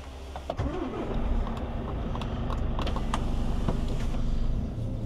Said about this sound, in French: Si j'allume pas le moteur, ça va pas le faire.